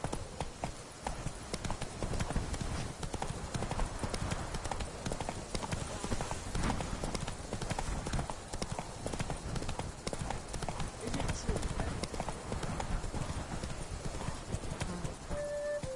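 Roach the horse gallops in The Witcher III: Wild Hunt, a steady, dense drumming of hooves running unbroken for the whole stretch, close and fairly loud, with a rider's voice now and then over the hoofbeats.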